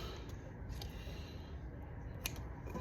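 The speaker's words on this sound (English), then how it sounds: "We're going to cut them in half." Scissors cutting food into halves, faint short snips and clicks over a quiet room background.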